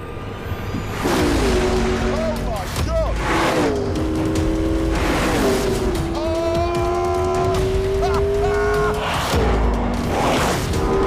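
A McLaren P1 hybrid sports car engine revs hard and accelerates through rising gear pulls, loud and close, with brief shift breaks between long climbing notes.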